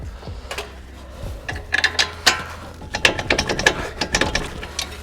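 A ratchet tightens the suspension bolts on a 2019 Corolla Hatchback being lowered on RSR springs, its loud, close rapid clicking coming in bursts with a few low knocks in between.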